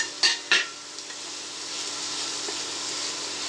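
Egg stirred into hot masala in a frying pan with curry leaves, two sharp scraping clinks of a utensil against the pan near the start, then a steady soft sizzle carrying on alone.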